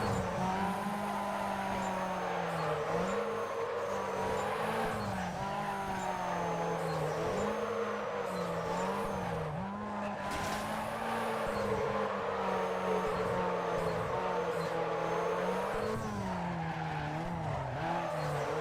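In a modded Need for Speed Carbon racing game, a car drifts with a continuous engine roar and long, wavering tire squeal that rises and falls through the turns, loud and steady throughout.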